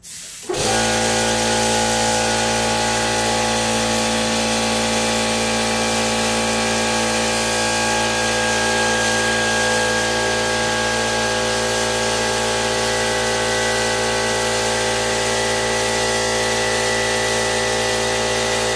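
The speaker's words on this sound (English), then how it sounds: "Sorry for the air compressor went off when I was spraying," An air compressor runs continuously while leather dye is sprayed onto BMW E36 seats, kicking on abruptly at the start and holding a loud, steady mechanical drone with a constant hum throughout.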